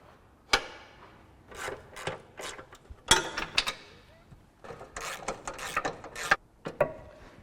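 Bolts are tightened with a ratchet on a Range Rover in a workshop, giving sharp metallic clicks and clanks in irregular bursts across several seconds, close and fairly quiet.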